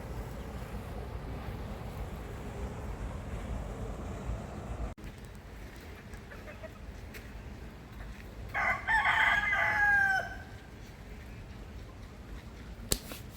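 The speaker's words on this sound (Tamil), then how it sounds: "ஊரில் சேவல் கூவுது பார்த்தீங்களா?" A rooster crows somewhere in a Belgian village, a single call rising over steady wind and outdoor rumble, moderately distant and not loud.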